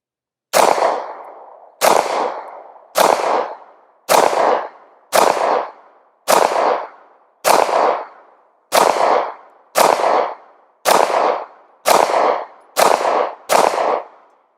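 Twelve sharp gunshots fired at a target through an Oak PLUS 3.5 MOA red dot sight, spaced about a second apart in a steady rhythm, each loud and close with a short decaying tail and no talking.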